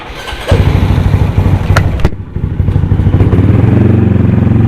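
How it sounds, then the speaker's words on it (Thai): Thai motorcycle fitted with a 57 mm LED kit, stock stroke, remapped stock ECU, on E20 fuel, idling and warming up close by, a loud steady chugging with a sharp clack and brief dip midway before settling back. "เดี๋ยวขอวอร์มวอร์มอุณหภูมิเครื่องก่อนนะครับ ตอนนี้เป็น 57 ชักเดิม น้ำมัน E20 นะครับผม"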